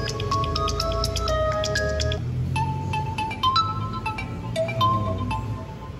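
A Realme C53 phone plays its ringtone, a bright electronic melody of quick plucked, chiming notes repeated in two phrases, loud and close with no talking.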